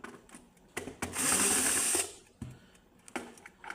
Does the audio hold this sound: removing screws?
yes